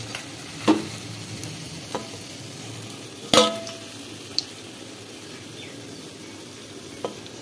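Stuffed ash gourd leaf fritters frying in a pan, a continuous close sizzle broken by a few sharp utensil knocks and scrapes as the pieces are turned.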